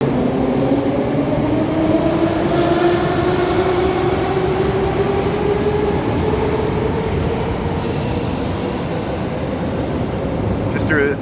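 Metro train moving through an underground subway station, a loud continuous rumble with a rising and falling tonal whine from the wheels and motors, steady throughout and close by.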